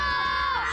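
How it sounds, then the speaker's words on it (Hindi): A single brief, high-pitched child's scream that sinks slightly in pitch near the end. "ये वहम नहीं, सच में किसी बच्चे की चीखने की आवाज थी।"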